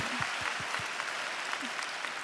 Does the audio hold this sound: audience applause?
yes